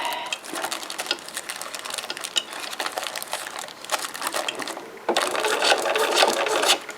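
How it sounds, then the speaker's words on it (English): A sewing machine stitching tissue paper into ruffles, a close, loud, rapid mechanical whir in bursts with brief pauses, the paper crinkling as it feeds through. "as I'm sewing, I just fold it up there"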